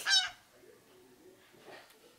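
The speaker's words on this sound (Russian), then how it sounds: "Гусь." A cartoon goose honk from a children's tablet animal game sounds once at the start, short and bright, followed by quieter electronic game sounds and faint room noise.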